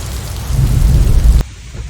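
A violent rainstorm in France pours heavy rain with a deep rumble of thunder, loud and continuous, then cuts abruptly to much quieter rain.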